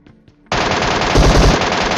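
Sustained automatic gunfire from an MK14 rifle in the PUBG battle royale game, starting abruptly after a brief quiet moment and continuing as a loud, dense, rapid burst to the end.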